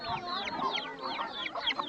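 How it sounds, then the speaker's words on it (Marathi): Chickens cluck busily in a Konkan village yard in Achara, with overlapping short, rising calls from several birds close by and no pause between them. "कोंबडी वगैरे बघा इकडे बघा"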